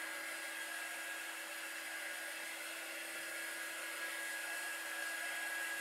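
A dryer blows steadily to dry paint on a flip flop wreath, a continuous high-pitched whine and airy hiss, faint and unbroken, with no talking.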